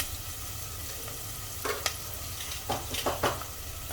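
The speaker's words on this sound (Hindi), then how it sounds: "और प्याज को लाइट गोल्डन होने तक भून लेंगे। हाई फ्लेम पर भून लेंगे इसे इस तरह से चला कर।" Salted onions frying on high flame while being stirred for a cauliflower sabzi, a constant dense sizzle broken by a few scraping strokes of the spoon, close by and with no speech.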